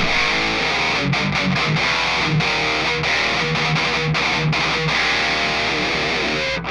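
An electric guitar is strummed through a Joyo Gem Box III multi-effects pedal with the volume and tone turned up, giving dense, saturated chords that ring continuously and loudly with short rhythmic breaks.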